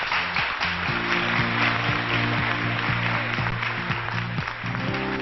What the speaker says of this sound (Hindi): बहुत सारी तालियां होनी चाहिए। Please welcome Myra Shafi.